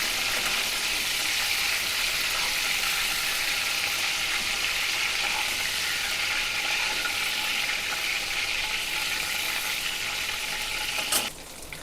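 Prawns frying in hot oil in a pan for a Bengali prawn malai curry, a loud, continuous close-up sizzle that holds steady throughout, ending with a brief clack, with no voices.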